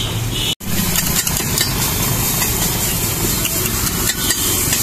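Aloo tikki sizzling in Amul butter at an Aligarh street-food stall, a continuous loud frying hiss layered with metallic stirring and background street rumble, with one brief dropout near the start.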